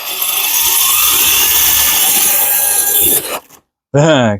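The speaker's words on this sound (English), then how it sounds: "And use the drill." A loud, close power drill whirs and grinds steadily for about three seconds while working on a 1972 VW Beetle, then stops abruptly; a brief voice follows after a moment of silence.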